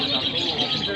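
Lovebirds chirp at a busy bird-singing contest, a dense, continuous high twittering heard close, with people talking in the crowd around them.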